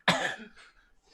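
A single harsh cough bursts out close and loud, followed by a brief rasp and quiet breath.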